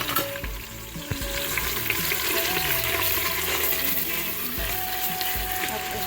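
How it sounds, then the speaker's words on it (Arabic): Tomato paste and onion fry in oil in a pan for a couscous dish, giving a constant close sizzle and crackle with faint stirring and no talking. "خليو الطماطم نتاعنا تتقلى هي والبصل"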